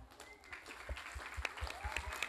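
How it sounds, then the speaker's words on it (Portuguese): Applause for a teacher at a Brazilian ENEM exam-prep TV broadcast, a steady patter of clapping from a small group that holds through the moment at moderate level. "Professora Paula, uma salva de palmas para ela"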